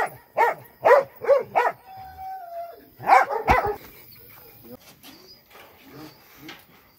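A dog barking in a neighborhood, several sharp barks in a quick burst followed by another cluster after a pause, fairly close, with a thin whistle-like tone between them and faint background sounds afterward.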